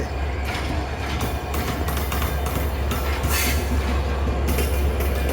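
The Padma/Dhumketu express train from Rajshahi rolling into Airport railway station at night with a heavy, steady rumble, wheels clattering and occasional metallic squeals over the loud continuous noise.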